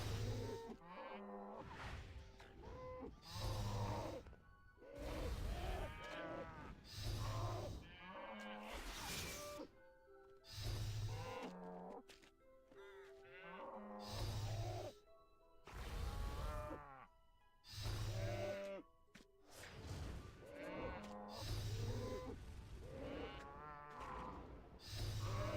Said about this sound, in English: Pretty sure you gotta have a bucket to milk that cow.